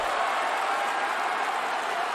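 Steady crowd roar and cheering from a WWE 2K wrestling match crowd, a continuous dense wash of noise filling the whole moment with no distinct voices.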